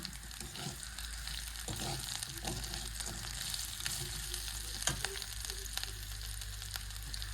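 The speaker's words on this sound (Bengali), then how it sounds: "একটু নাড়াচাড়া করে দেব" Food fries in a pan after a pinch of salt goes in, a steady sizzle running throughout with a few soft clicks and scrapes as it is stirred close by.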